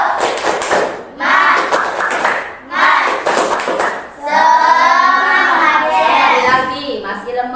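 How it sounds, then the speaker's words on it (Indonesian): A classroom group of children does a rhythmic spirit clap, bursts of fast hand clapping in a patterned beat alternating with gaps, followed by voices chanting together. "Ayo sekali lagi, tepuk semangat."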